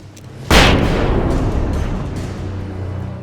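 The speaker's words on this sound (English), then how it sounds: "It's time for a flashbang, you fuckers" A flashbang grenade in Alan Wake Remastered goes off once with a sudden loud, close blast, then a long rumbling decay that fades over a few seconds, with no one talking.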